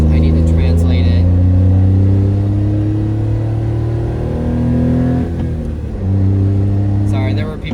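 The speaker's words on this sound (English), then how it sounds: "there were people watching my car, so I had to rev it" A Honda Beat kei car's small engine revving loudly and close, with rising and falling engine tones as the throttle is blipped several times, then a brief dip before another rev.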